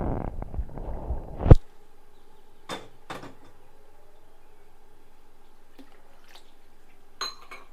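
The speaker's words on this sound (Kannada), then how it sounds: "ಎತ್ತಿಟ್ಟಿರೋ ಎಲ್ಲ ನೀರು ಹಾಕ್ತೇನೆ ಅದಕ್ಕೆ." Saved water is poured into a bowl of finely ground red chilli batter in a home kitchen. A short splashing pour comes first, then a few sparse clinks of utensils against a vessel in near silence.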